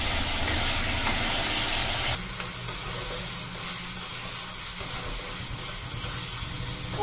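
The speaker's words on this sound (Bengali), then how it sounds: "আদা, রসুন আর পেঁয়াজ বাটা তিনটে একসাথে দিয়ে আমি আরও একবার ভালো করে ভেজে নিচ্ছি" Ginger, garlic and onion paste fries together in a pan for a pabda fish curry, giving a loud, dense hiss for the first couple of seconds that then drops to a quieter, steady sizzle, without talking.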